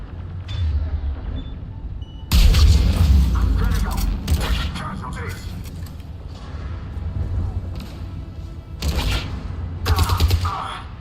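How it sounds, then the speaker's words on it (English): Cannon fire in a space battle in a video game: heavy, booming bursts, a loud one near the start and another late on, with rumbling mechanical clatter between them. "Those cannons have to be stopped."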